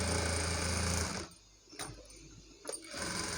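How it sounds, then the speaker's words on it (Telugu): A sewing machine stitches a double line of stitches on a blouse, running loudly for about a second, then falling quiet apart from two brief clicks before resuming near the end. "మళ్ళీ దీనిపై నుండి ఒక స్టిచ్ వేసేస్తున్నాను"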